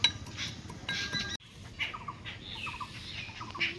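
Roasted fennel seeds crushed by hand in a kitchen, giving brief scraping and clinking taps of a grinding tool against a vessel, fairly faint and close, with no talking.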